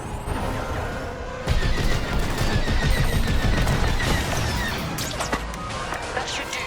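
Starfighter laser cannons blaze in the video game Star Wars: Squadrons, a dense, continuous barrage of rapid shots and crashing impacts that swells after the first second and stays loud throughout, with faint voice underneath.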